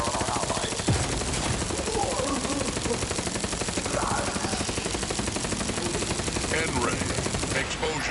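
Dense, rapid gunfire from a firefight in the video game The Outer Worlds 2 rattles on without pause, loud and close, with voices speaking underneath the shooting.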